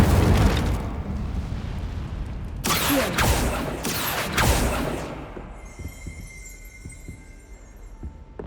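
A fire spell cast in the video game Hogwarts Legacy, heard as a few loud, close bursts of whooshing, crackling flame with sharp impacts, then a quieter rumbling stretch dotted with faint clicks.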